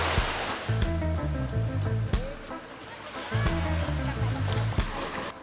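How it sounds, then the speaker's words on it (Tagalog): Sea waves wash steadily at Diniwid Beach on Boracay, a continuous surf hiss with a few sharper knocks, while someone talks over it in the foreground. "Ganda ng dagat to."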